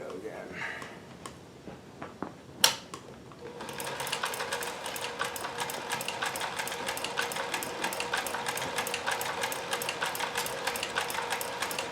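A Kenmore 158.1040 sewing machine fitted with a Singer zigzag attachment sews a stretch stitch, starting after a few scattered clicks and bumps into a fast, steady, close-up rattling run of stitches that continues to the end.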